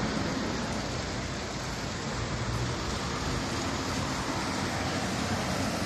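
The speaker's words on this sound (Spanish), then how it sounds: "Son vistas muy gratas en esta mañana de plena lluvia." Steady morning rain falls in the town center of Puyo, Pastaza, Ecuador, a dense, even hiss of drops that stays constant and moderately loud throughout, with no talk over it.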